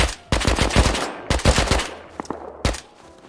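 Bursts of automatic gunfire ring out in the survival game Rust, several rapid rattling volleys close and loud with brief pauses between, followed by a couple of lighter single shots.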